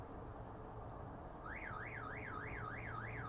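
A car alarm in a video game city whoops in a rising-and-falling siren pattern, starting partway through and repeating steadily several times over a low ambient hum.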